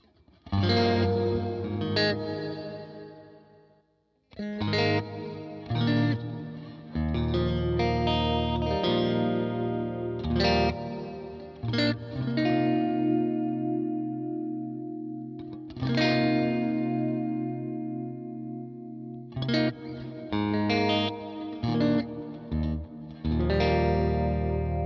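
Ambient guitar chords played through a Line 6 Helix LT with long pre-delay reverb and chorus-like modulation, each strummed chord swelling and ringing out into a wash before the next, with brief gaps between phrases.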